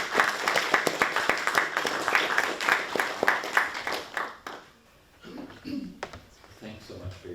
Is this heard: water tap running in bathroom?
no